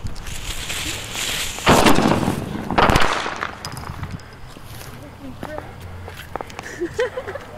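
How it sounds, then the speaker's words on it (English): A pro tank rocket firework set off during a Fourth of July celebration, with two loud bursting blasts close by in quick succession and then crackling and popping, while people talk. "That was the pro tank rocket."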